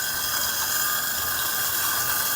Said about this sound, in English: We spent the last hour grinding coffee.